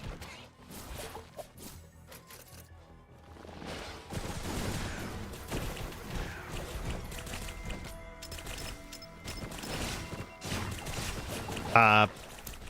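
Missiles fire in Risk of Rain Returns as rapid volleys of whooshing bursts and crackling impacts, rising and falling over busy game music, while someone talks over them.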